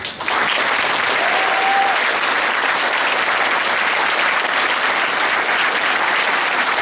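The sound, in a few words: audience applauding in church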